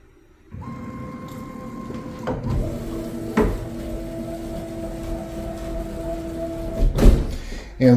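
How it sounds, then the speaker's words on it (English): A CNC machine homing while setting up mount points for a bass guitar build: steady motor whine with tonal hums held for several seconds, a couple of sharp clunks as axes stop and reverse, close and fairly loud, no talk. "So let me home this machine."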